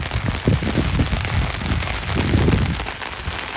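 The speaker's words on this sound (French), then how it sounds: "la pluie c'est hard" Heavy rain pours steadily outdoors in a dense, close, continuous patter, drumming hard on surfaces with no pauses and no voices.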